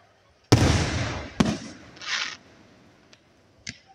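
Small fireworks at a farm show pop and crackle in sharp bursts, one loud bang followed by fizzing, then a few lighter snaps and a later crackle, fairly close with no talking.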